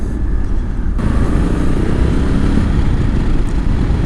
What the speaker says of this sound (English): So, a lot of wind hitting me, a little bit noisy.